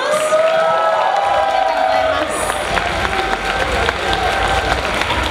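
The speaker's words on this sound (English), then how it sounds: "give our special guests a round of applause" An audience at a concert event claps for special guests, a continuous wash of applause with some cheering and whoops from a crowd filling the room, steady and loud throughout.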